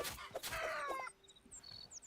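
A chicken in the Hytale game clucks and squawks in a quick, close run of calls during the first second, followed by faint high chirping birds in the background.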